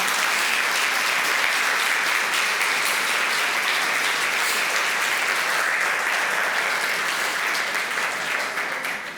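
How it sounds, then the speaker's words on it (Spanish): A church congregation breaks into loud, sustained applause that fills the room evenly for about nine seconds before starting to fade at the end, with no talking over it. "Da un fuerte aplauso a Cristo Jesús"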